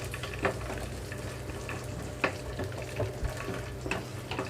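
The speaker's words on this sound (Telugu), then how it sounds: "పల్లీలు అలాగే నువ్వులు కూడా వేస్తున్నాను దీంతో పాటుగా కరివేపాకు రెమ్మలు కూడా వేసేసుకుంటున్నాను లో ఫ్లేమ్లోనే ఉంచి వీటన్నిటిని వేయించుకుంటున్నానండి" Peanuts, sesame seeds and curry leaf sprigs fry on a low flame for tomato chutney, making a soft, steady sizzle with occasional stirring taps and no voices.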